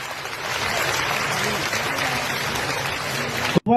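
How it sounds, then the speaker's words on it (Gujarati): Steady crowd applause welcoming saints at an ashram tilak ceremony, a dense, even wash of clapping that runs for several seconds before cutting off abruptly. "જોરદાર તાળીઓ સાથે આપણે સૌ સંતોના આગમનને પણ આ તકે વધાવી લઈએ."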